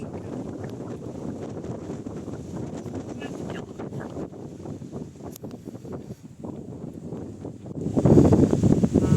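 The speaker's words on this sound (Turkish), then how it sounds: "Şimdi de çok rüzgar var." Strong wind buffets the microphone outdoors at a village, a steady low roar throughout that swells louder near the end.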